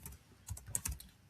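A few quiet computer keyboard keystrokes for copy and paste shortcuts, soft separate clicks spread over about a second, close and faint with no talk.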